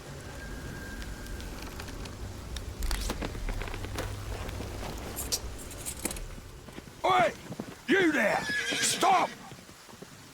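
A horse whinnies loudly several times near the end, over a dim outdoor ambience with faint crackling like fire and rain, during a medieval-drama night siege.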